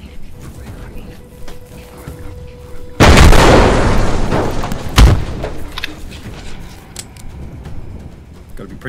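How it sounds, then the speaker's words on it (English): Grenade launcher blasts in the zombie video game Dead Fury, a loud sudden boom followed by a rumbling tail and a second sharp blast, amid game sounds and a speaking voice. "Pretty careful with the grenade launcher, it will kill you if you're too close."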